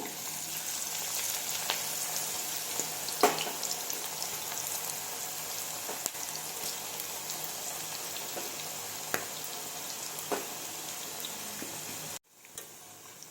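Oil sizzles and crackles steadily as moringa leaf pakoda deep-fries, a constant bubbling hiss with occasional pops, then stops abruptly near the end.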